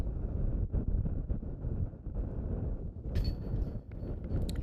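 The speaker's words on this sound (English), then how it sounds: "You see that wind ripping" Gusty wind rushes across an open disc golf course in Las Vegas, a steady broadband roar buffeting the microphone, with brief hiss bursts near the end.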